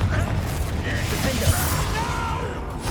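The Confringo spell is cast in Hogwarts Legacy, a dense, crackling blast with bursts and rumbling layered over continuous loud combat noise.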